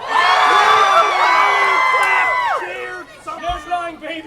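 A live audience at a comedic Shakespeare performance bursts into loud cheering and whooping with high shouts, fading into scattered voices and chatter.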